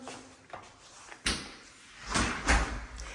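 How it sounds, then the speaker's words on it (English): Door shut in a home's hallway near the laundry room, a few soft knocks, then a sharper thud and a final firm closing bump, nearby and moderately loud. "I'll shut that door."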